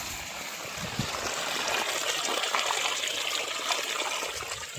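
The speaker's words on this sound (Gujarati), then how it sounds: "મોટર તો ચાલુ થઈ ગઈ છે જો પાણી આવવા મળ્યું છે" Water from a farm pump motor gushes and splashes steadily in a constant rushing flow, with a broad hiss and no pauses.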